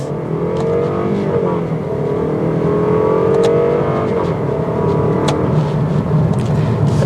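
A 2022 Lexus IS 300 with 241 horsepower accelerating hard from a stop, its engine note loud and sustained from inside the cabin, rising steadily in pitch through the gears for several seconds with no talk.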